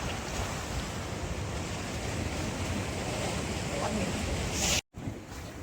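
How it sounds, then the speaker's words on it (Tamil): Ocean surf rolling onto rocks at Kanyakumari, a constant broad roar of breaking waves mixed with wind buffeting the microphone, ending in a sudden brief dropout. "அலையை மட்டும் பாருங்க, சரியான அலை வருது"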